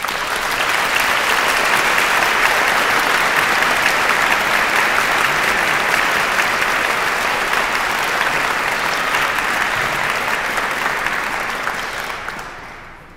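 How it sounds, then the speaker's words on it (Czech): A concert hall audience applauding in the Dvořák Hall of Prague's Rudolfinum, steady loud clapping sustained for about twelve seconds before tapering off at the end. "potlesk"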